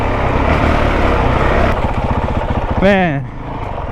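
A 2023 Honda CRF450X dirt bike engine, fitted with a thermostat delete kit, drones steadily and then rises in a sharp rev near the end before dropping back, with a voice heard under the engine.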